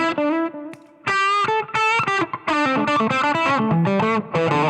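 An ESP Navigator electric guitar plays loud overdriven chords and sustained notes with short gaps, thick distorted tone throughout, no talking.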